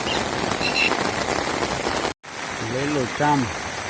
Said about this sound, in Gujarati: વરસાદ બંધ થવાનું નામ નથી લેતો અને વધતો જ જાય છે